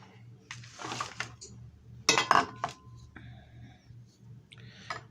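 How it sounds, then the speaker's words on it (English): A single egg is cracked into a bowl and beaten with a fork, giving quick clinking taps of metal against the bowl in short bursts over a low steady hum. "bust it in the bowl. Beat it with a fork, just like that."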